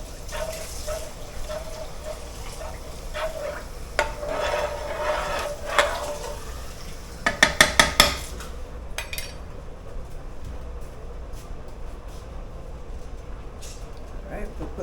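Heavy cream stirred into pasta sauce in a pan, with scraping utensil sounds against the pan, a short burst of rapid clinks midway and soft kitchen background noise.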